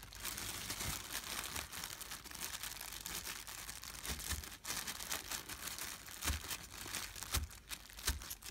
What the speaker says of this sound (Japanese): ビニール袋が破けないように気をつけて潰してくださいね。